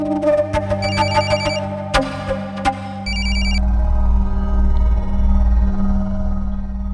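A telephone rings in repeated electronic bursts, loud and near, then a low steady hum takes over after the ringing stops.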